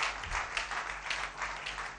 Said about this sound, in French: On va applaudir très fort pour lui.